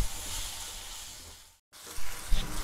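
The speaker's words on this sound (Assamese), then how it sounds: "নিমখ জিৰা গুৰি ধনিয়া গুৰি আৰু ৰেড চিলি এইখিনি ভালদৰে ৰঙচুৱা হ'লৈকে মই ভাজি থাকিম" Salt, ground cumin, ground coriander and red chili sizzling in a hot pan for egg curry, a steady close frying hiss that briefly drops out before resuming.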